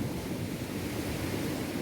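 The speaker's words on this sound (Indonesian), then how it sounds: "biar tante menikmati pantai, suara deburan ombak yang indah" Steady broadband roar of ocean surf washing onto a beach, continuous and fairly loud with a windy wash and no distinct individual breakers.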